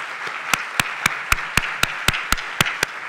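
Scattered, sparse clapping at the close of a university lecture, about ten distinct claps at a steady pace, fairly close and moderately loud, with no voices over them.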